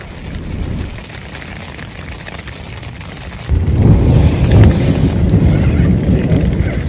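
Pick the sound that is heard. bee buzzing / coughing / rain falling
rain falling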